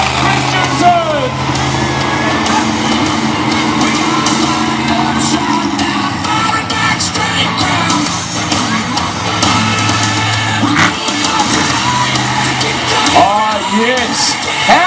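A monster truck engine roars loudly at the Royal Melbourne Show, a sustained low growl with revving swells, while a crowd cheers and an announcer talks over the din.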